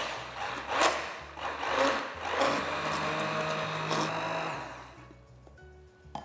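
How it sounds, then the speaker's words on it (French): A blender whirs through a pistachio ganache being emulsified, a close, uneven churning buzz that surges and dips for several seconds before cutting off near the end. "Je vais ensuite mixer ma préparation pour bien émulsionner ma ganache."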